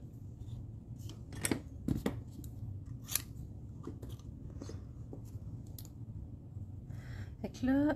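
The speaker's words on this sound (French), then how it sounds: "Je pense que je préfère la découper puis venir la coller." Scissors snip through paper, cutting out a stamped image for a handmade card, with several sharp close-up cuts spread unevenly over quiet room tone and faint background voice.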